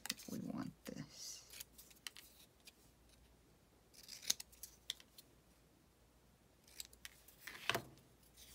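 Scissors trim paper at a quiet crafting table, with a few crisp snips spread across the stretch and soft handling rustles and faint clicks in between.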